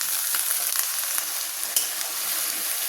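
Cut jackfruit frying in a wok alongside lightly fried potato, onion and garlic, giving a steady, close, dense sizzle with a few sharp crackles and pops throughout and no talking.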